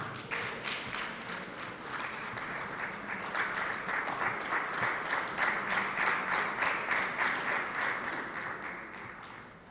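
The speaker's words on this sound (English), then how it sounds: "Give yourselves a round of applause." Sustained round of applause from an audience at an awards evening, a dense wash of many hands clapping steadily and loudly for nearly ten seconds before tapering slightly at the end.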